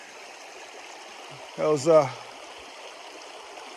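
Stream of water flowing steadily at a gold-scouting spot, a soft continuous rushing wash in the background, briefly interrupted by a man's short spoken phrase.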